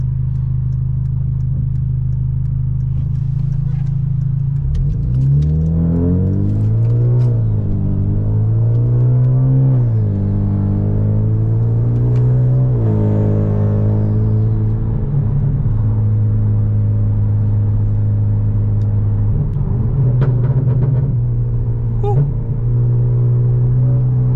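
Hyundai Genesis Coupe engine droning while driving, a low steady rumble with several rising rev sweeps as the car accelerates and shifts, close and continuous throughout.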